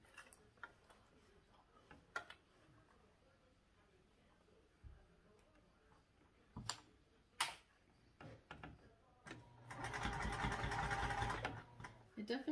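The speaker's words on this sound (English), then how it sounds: "Now we're switching back to our zipper foot. And we will be sewing that on with a 3/8 inch seam allowance." A domestic sewing machine fitted with a zipper foot stitches a backpack lining in a quick run near the end. It is preceded by scattered clicks, handling knocks and quiet room noise.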